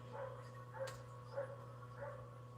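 A dog barks from some distance, four evenly spaced single barks over a steady low hum, with no voices.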